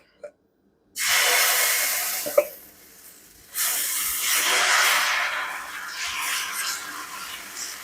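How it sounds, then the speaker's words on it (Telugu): Dosa batter hits a hot iron pan and sizzles loudly in two long hissing bursts, the second steadily fading, with a brief clink in between. "పెద్ద దోశ వేస్తున్నాను చూడండి"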